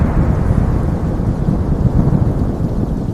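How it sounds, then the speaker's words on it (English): Violent thunderstorm with heavy rain, a dense, steady low rumble of thunder and downpour filling the whole stretch, loud and close with no pauses. "A violent thunderstorm erupted."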